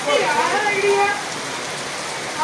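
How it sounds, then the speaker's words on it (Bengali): Heavy rain pours down in a steady, dense hiss, with a voice speaking briefly over it at the start. "আর এদিকে বাইরে চরম বৃষ্টি পড়েই যাচ্ছে।"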